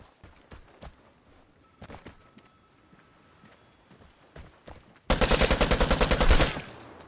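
An AKM rifle in the game Vigor fires a loud, close burst of rapid, evenly spaced shots for about a second and a half. Quieter footsteps and handling noises come first.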